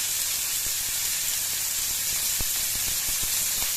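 Cumin seeds sizzle in about a spoonful of hot cold-pressed groundnut oil, a steady bright frying hiss with a few small pops and crackles, close and continuous with no talking.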